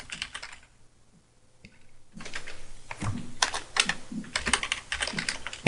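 Fingers type text on a computer keyboard, a close run of quick, irregular clicking keystrokes that pauses briefly and then resumes in a steady patter, with no voices.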